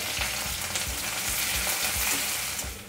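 Chilies, onion, garlic and ginger sizzle and crackle steadily in a hot pan, with rhythmic stirring scrapes throughout.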